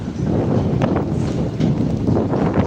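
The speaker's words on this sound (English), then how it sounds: "And the wind blows the sand on the leg." Steady strong wind on a sandy beach in Fortaleza, Ceará, roaring continuously across the microphone for the whole moment, with no talking.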